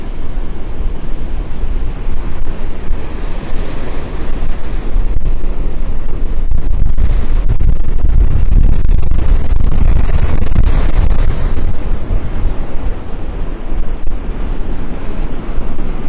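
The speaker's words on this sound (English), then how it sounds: "The gimbal's having a hard time holding the camera here against the wind." Strong gusty wind at Delnor-Wiggins beach in North Naples buffeting the microphone, a loud continuous roaring rumble with surf faintly underneath, no voices.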